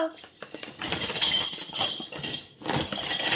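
A child's toys tip out of a bag and clatter onto a surface in a busy, scattered run of clinks and knocks, close and fairly loud, with a voice nearby.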